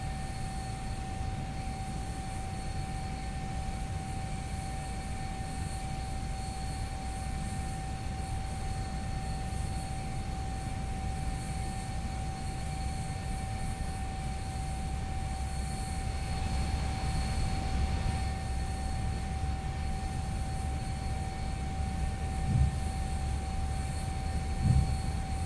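Steady low rumble and whine of an F-14B Tomcat jet idling and taxiing in the DCS flight simulator, a constant engine drone with a fixed high tone, swelling slightly near the end, with no talk.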